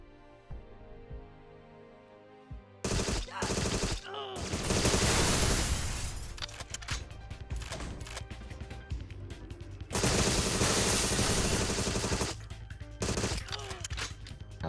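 Rapid gunfire from the Agent 64 shooter game cracks out in dense, loud bursts and volleys, with near-continuous automatic fire after a quieter opening, pausing briefly before another heavy burst.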